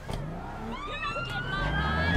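An ambulance in the game APB Reloaded wails with a rising electronic siren tone over a running car engine, with a person speaking briefly.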